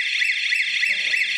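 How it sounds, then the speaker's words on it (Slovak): A shop burglar alarm sounds continuously, a piercing, steady high-pitched electronic wail that is loud and close, with faint low rumbling underneath. "tak začal ten alarm."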